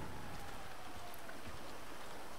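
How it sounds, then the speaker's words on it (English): Steady rain falls in the Grand Theft Auto 5 video game, a continuous soft patter of drops on surfaces, faint and even with no voices over it. "It's raining outside."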